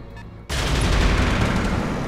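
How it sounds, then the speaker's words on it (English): Gunfire in the mech combat game Roguepoint bursts in after a brief quiet moment and continues as a dense, loud, continuous barrage of shots and impacts. "Wow, nice shooting."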